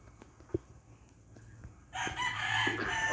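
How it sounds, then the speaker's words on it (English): A rooster crows loudly and close in the last second, a drawn-out cock-a-doodle-doo rising after a quiet stretch with a few faint clucks and thumps before it. "Shut up, chicken."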